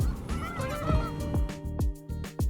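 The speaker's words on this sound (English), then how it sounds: "These snow geese were isolated in this pond, created only by their own movement and body heat." A dense flock of snow geese on a small icy pond, many overlapping honking calls crowding together in a loud, continuous chorus.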